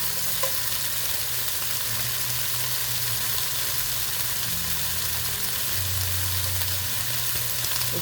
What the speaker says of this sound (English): Now that you can hear it sizzling, I'm going to go over and I'm going to chop the bacon.